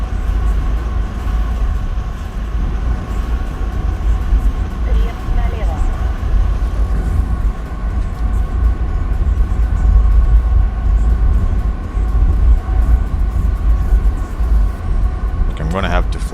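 Steady jet engine drone of a MiG-23MLD cruising in a flight simulation video game, a continuous loud roar that holds without letting up for the whole stretch.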